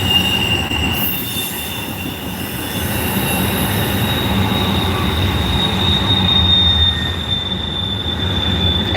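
Train wheels squeal loudly in a long, sustained, high-pitched screech as freight cars pass close by, with the brakes needing grease, over steady rumbling and clatter with no talking.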